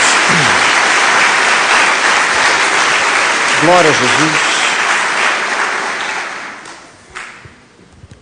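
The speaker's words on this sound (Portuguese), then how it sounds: "Dê uma salva de palmas a Jesus." Congregation at a church service bursts into loud, dense applause that holds steady, then thins and fades toward the end, while a voice calls out over the clapping.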